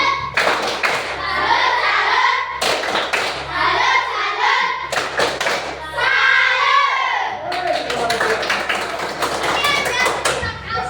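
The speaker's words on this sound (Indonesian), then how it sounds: "Tepuk salut" Schoolchildren in a classroom perform a patterned salute clap, loud bursts of unison claps in several groups with brief shouted chants between them, close and energetic.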